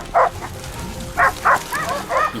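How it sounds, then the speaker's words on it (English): Hunting dogs on a boar hunt bark in sharp, separate bursts, a few loud barks spaced irregularly over a low outdoor background. "the sharp barks of the hunting dogs echoed loudly"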